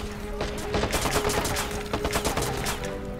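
Assault rifle fire in Watch Dogs, a dense rattle of rapid automatic bursts over a humming background, loud and close, with a brief pause in the middle before the shooting resumes.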